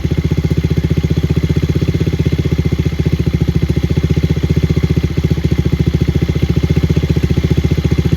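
A Kawasaki KLX110 dirt bike engine idles steadily up close after a carburetor cleaning, a fast even putter with no other sounds.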